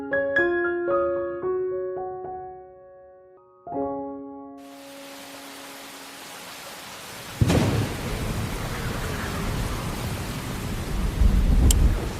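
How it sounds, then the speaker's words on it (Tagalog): Heavy rain pours in a continuous dense hiss, joined partway through by a sharp crack and rumble of thunder, loud and close, after a few tonal musical notes fade out at the start. "Lakas ng ulan ah."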